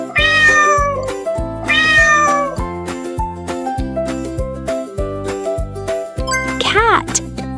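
A cat meows twice in clear, close calls over a light, jingly musical backing, followed later by a shorter upward meow.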